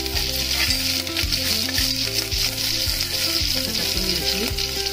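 Curry leaves crackle and sizzle in hot oil alongside mustard seeds and garlic while a Khandeshi green-chilli khichadi tempering is prepared, giving a steady, close frying hiss with spoon stirring and clinks throughout.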